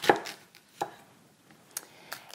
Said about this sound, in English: So I'm gonna cut this potato in half using that tunnel method.